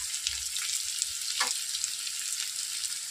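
Chopped onion frying in oil for a mushroom curry gives a steady, close hiss with a faint scrape partway through, and no one speaking.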